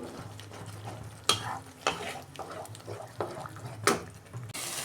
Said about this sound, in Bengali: যতক্ষণ না তেল ছাড়ে আমি ভালো করে মশলাটা কষে নেব।